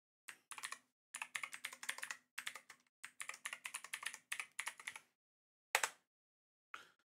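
Quick bursts of keystrokes on a computer keyboard while a file name is typed in a game scenario editor, fairly close and crisp, with short pauses between runs of keys and a few isolated taps near the end.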